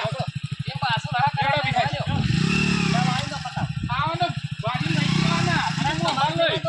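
A motorcycle engine putters nearby in a fast, steady pulse, swelling twice as it revs, while people talk over it.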